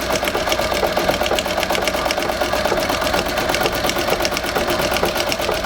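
A Singer 201-3 sewing machine on a treadle stitches heavy canvas, its rapid, even needle clatter running loud and close without a break, and nobody talking.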